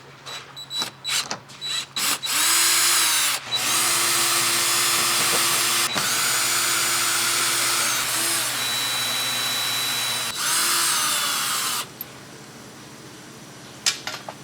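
A power tool removing bolts from a Tesla, several short whirring bursts followed by long steady impact-driven runs with a tonal whine, then stopping with a few clicks and clatters.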